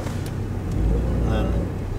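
Vehicle engine revving with wheels spinning while testing part-time four-wheel drive, a steady low rumble that swells slightly mid-clip, heard under a person talking.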